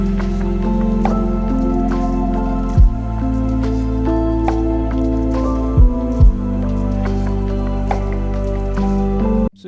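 Final drop of a sleepy lofi track, a synth arpeggiator drenched in delay and heavy reverb over warm sustained bass and chords, steady and full with brief dips where the low end drops out.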